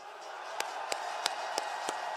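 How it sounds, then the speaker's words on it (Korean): Crowd at a rally in Busan, a soft sustained wash of distant applause and murmur, punctuated by about six sharp, evenly spaced claps or thumps roughly every third of a second apart. "감사의 뜻으로 뜨거운 박수를 한번 보내주십시오"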